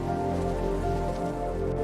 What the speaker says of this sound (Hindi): कुछ दिनों बाद बारिश आई